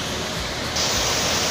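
The Véu da Noiva waterfall in Campos do Jordão roars as a constant broadband rush that grows brighter and louder partway through, with no talking.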